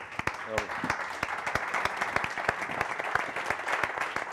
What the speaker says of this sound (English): Please stand up, give the warmest round of applause for Carlos.